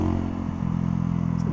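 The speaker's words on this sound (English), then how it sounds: "a bit like all Mutts, they have this lovely exhaust on them" A 2018 Mutt Mongrel 250 motorcycle with a 250cc engine idles close by, its exhaust giving a loud, steady low throb with a brief dip in pitch partway through.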